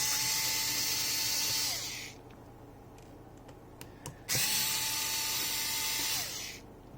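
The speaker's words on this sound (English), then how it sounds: "I'll just go ahead and keep removing these screws" A small electric screwdriver whines steadily in two long runs while screws come out of a Galaxy S22 Ultra phone, with a few faint taps and clicks in the quiet gap between them, close and fairly soft.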